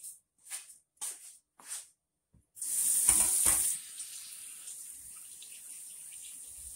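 Sweet potatoes rinsed under a running tap, a few short splashes first, then a steady rush of water that loudens briefly and settles to a softer flow, close by with no talk.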